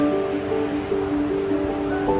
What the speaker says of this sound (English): At the waterfall, Michelle's up ahead.